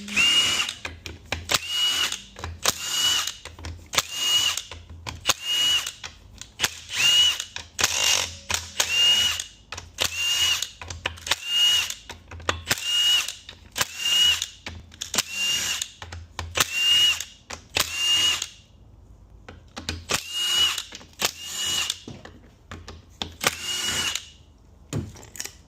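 A power tool spins valve body bolts out of a 2003 Chevrolet Suburban 5.3 transmission, running in repeated short whirring bursts separated by brief pauses, each one loud and close.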